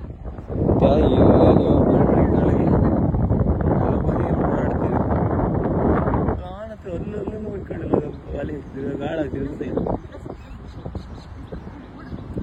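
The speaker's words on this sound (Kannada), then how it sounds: "ಗಾಳಿ ಜೋರ ಐತೆ" Strong wind buffets the microphone in heavy low rumbling gusts, loudest in the first half, with voices and occasional bird calls behind.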